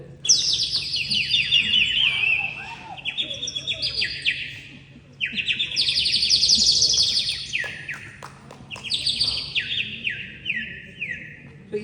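A human voice imitates bird calls: bright chirping in three bursts of quick descending phrases, close and clear, with short pauses between them over a faint low hum.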